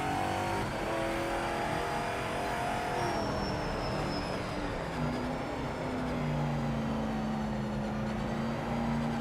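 Racing car engine in a PC racing game, a loud sustained roar climbing in pitch through gears as the car accelerates hard on cold tires.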